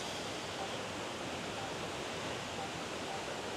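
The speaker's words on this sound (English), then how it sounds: "Nonetheless, a beautiful, very beautiful waterfall" The Leke Leke (Lingaling) waterfall in North Bali roars as a steady, broadband rush of falling water, continuous and fairly loud with no break.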